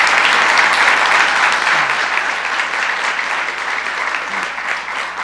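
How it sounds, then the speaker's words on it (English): An audience applauds state legislators at a New York government event, with loud, dense clapping that stays steady and close for several seconds before tapering slightly. "Let's give them both a round of applause."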